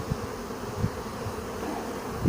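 Honey bees carrying dandelion pollen buzz steadily near a hive, a continuous close drone with occasional louder passes.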